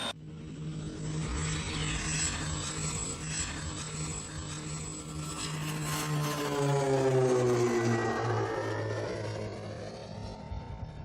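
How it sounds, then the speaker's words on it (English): A low, slow propeller survey airplane drones overhead, its steady engine tone swelling and shifting pitch as it passes, loud and alone without speech. "The plane flies low and slow over the terrain to collect data."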